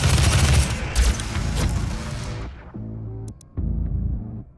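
Heavy gunfire in the video game Doom, with rapid loud blasts and booming shots rolling together at first, then thinning into a few separate throbbing bursts.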